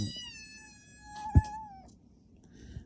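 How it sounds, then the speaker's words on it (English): A cat lets out a long, loud, drawn-out meow close by, with a second fainter cry near the end. "I got a cat hollering, for those who are wondering."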